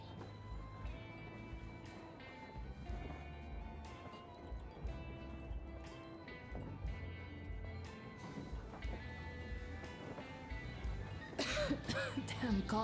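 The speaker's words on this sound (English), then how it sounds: "Damn coughing." Character coughing in the video game Metro Exodus, several harsh coughs and throat clearing near the end over steady game music and ambience, with voices talking quietly throughout.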